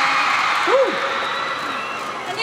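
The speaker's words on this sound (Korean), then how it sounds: "박수 좀 쳐주셔야 돼요" Crowd at a New Year concert at Lotte World clapping and cheering for a K-pop group member, a continuous roar of applause with a rising whoop near the middle.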